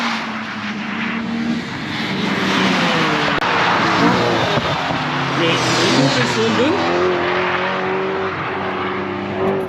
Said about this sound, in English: BMWs flying into Duffus there